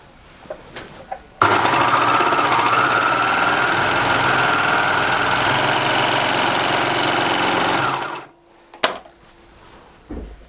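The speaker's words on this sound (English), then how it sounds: "I'm just going to go straight in and sew" A Baby Lock Imagine serger stitches French terry fabric, a fast, steady mechanical whirring hum that starts abruptly, runs loud and close for about seven seconds, then winds down, with a few soft clicks before and after.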